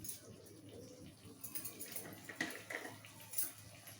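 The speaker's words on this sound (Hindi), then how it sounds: "जेहेतु आम गुंड मसला पकई टिके आम पानी ऐड करवा।" Water poured into a pan of fish masala frying on the stove gives a soft, uneven sizzle and splash that rises in small bursts over a steady low hum.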